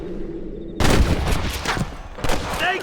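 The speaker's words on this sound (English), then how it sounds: "Looks like there's a couple of snipers over there." Sniper rifle fire in the Red Dead Redemption video game, with a sudden loud burst of gunfire followed by a second crack, heard over continuous ambient game sound.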